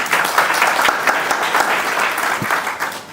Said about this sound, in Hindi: आप जोरदार तालियों से का स्वागत कीजिए।